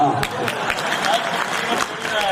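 Audience applause at a Gujarati dayro comedy performance, a burst of mixed clapping from a crowd that goes on briefly under a speaking voice.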